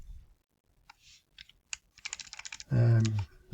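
Quick bursts of typing on a computer keyboard while entering a local address into a web browser, with a cluster of close, crisp key clicks followed by a heavier thump of the enter key.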